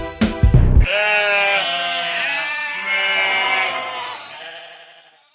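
A sheep bleats loudly and close, one long wavering cry after a brief rustling knock, then fading away.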